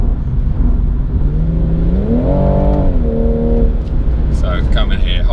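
A 2018 BMW M240i with an 8-speed gearbox accelerating hard from inside the cabin, engine note rising in pitch through a gear, dropping briefly at a shift, then climbing again under constant road roar.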